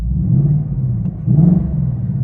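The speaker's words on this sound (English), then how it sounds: "So this is the normal exhaust." A 2021 Ford Mustang Mach 1 exhaust in normal mode idles with a deep, steady rumble, low and throaty, swelling slightly partway through, loud and close with no voices.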